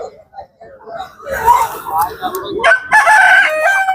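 A large rooster crows loudly nearby at a livestock market, its drawn-out call rising toward the end, with softer clucking and murmuring before it.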